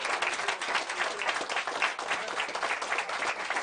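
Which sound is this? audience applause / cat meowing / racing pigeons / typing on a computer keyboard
audience applause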